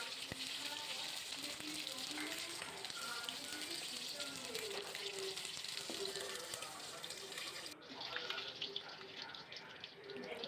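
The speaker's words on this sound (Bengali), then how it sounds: "অপর পাশটাও একইভাবে লালচে করে ভেজে নিচ্ছি" Pieces of shing fish fry in hot oil, making a continuous crackling sizzle with scattered pops. Cooking clatter briefly rises near the end.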